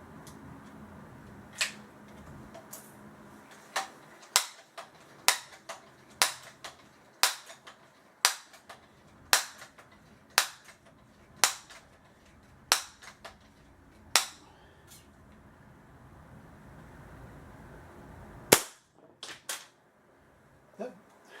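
A Crosman 760 airgun fires pellets through a chronograph, sharp snapping shots at a roughly even pace of one every second or so, loud and close in a quiet space, with a short pause before a final cluster.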